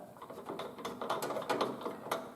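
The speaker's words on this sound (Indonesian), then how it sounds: "ini kita pasang perlahan-lahan, pastikan menggunakan obeng yang ada magnetnya" A magnetic screwdriver drives a screw into a computer case during PC assembly, giving a steady run of close, small ratcheting clicks and metallic scraping.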